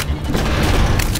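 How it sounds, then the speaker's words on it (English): Enemy gunfire in Call of Duty: Modern Warfare 3 comes as a short, loud, dense burst of booming shots that fills the whole moment, with no speech over it. "There's enemy fire!"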